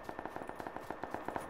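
Automatic gunfire in PlayerUnknown's Battlegrounds rattles off as a rapid burst of about fourteen evenly spaced shots, faint and distant-sounding, alone without talk.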